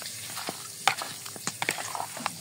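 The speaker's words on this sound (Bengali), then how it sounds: "এলাচ, দারচিনি, তেজপাতা লাস্টে দিকে রেখেছি। এখন ভালো করে একটু ভেজে নেব।" Whole cardamom, cinnamon and bay leaves fry in oil for a mild chicken curry, a faint hiss broken by scattered light crackles and stirring taps, with no talking.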